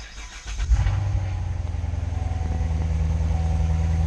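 A Chevrolet C7 Corvette V8 fires up in track mode, a sharp crank and roar at start, then settles into a loud, steady, rumbling idle close by, with no talk.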